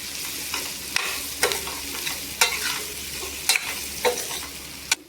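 Capsicum pieces stirred in a hot pan with turmeric, a steady soft sizzle broken by sharp scraping strokes of a spoon roughly every second, close and alone with no talk.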